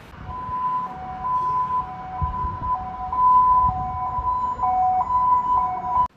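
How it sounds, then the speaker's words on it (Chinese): An ambulance siren wails in a steady two-tone pattern throughout, rising from a distance toward the listener on a road in Taitung, carrying a man in his seventies struck by an SUV, with faint traffic rumble underneath. "救护车的声音从远方传来"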